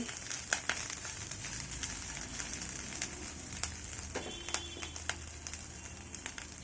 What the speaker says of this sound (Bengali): এগুলোকে আমরা এখন নেড়ে চেড়ে লাল লাল করে ভেজে নিব